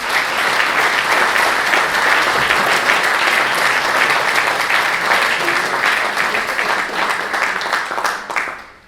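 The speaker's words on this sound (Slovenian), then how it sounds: "In vsi si zaslužijo en velik aplavz." A large concert audience at a harmonica festival gala applauds loudly and steadily, a dense wash of clapping that holds for several seconds before tapering off at the end.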